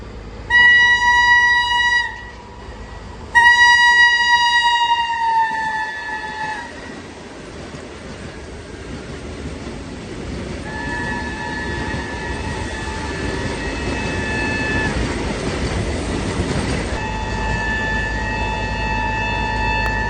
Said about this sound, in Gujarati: એક ટ્રેન આવી રહી છે, તમને બતાવો.